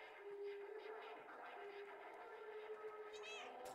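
A cat meows in the video game Stray, a steady tonal mewing over a dense ambient game soundtrack, with a brief rising call near the end.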